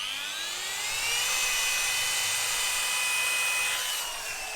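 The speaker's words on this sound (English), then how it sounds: "Quite an aggressive polishing pad as well." A machine polisher with an aggressive cutting pad runs on car door paint to remove a key scratch, making a loud, continuous high whine that rises and holds steady up close, then eases slightly toward the end.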